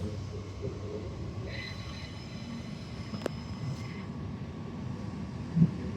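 An IMU train carriage running on Brisbane's Cleveland Line gives a steady, loud interior rumble with constant low drone and faint metallic ringing, plus a brief clunk near the end, no talking.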